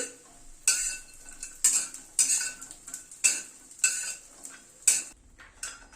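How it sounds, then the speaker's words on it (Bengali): Eight to ten black gram lentil dumplings fry in hot mustard oil in a kadai. A utensil strikes and scrapes the pan in a steady rhythm of about seven loud, close clinks over a soft sizzle, with no speech. "বড়িটাকে ভেজে নিচ্ছি"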